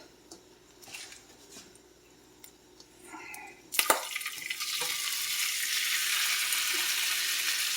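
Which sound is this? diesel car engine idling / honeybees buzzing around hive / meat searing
meat searing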